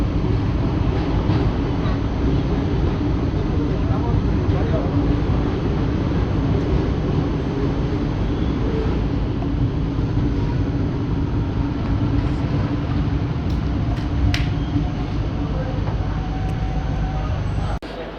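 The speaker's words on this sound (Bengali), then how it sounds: "অলরাইট ট্রেন এসে পৌঁছালো অম্বিকা কান্না" The Malda–Howrah Intercity Express pulls into Ambika Kalna station, a loud, steady rumble of rolling coaches that runs continuously and drops away sharply at the very end.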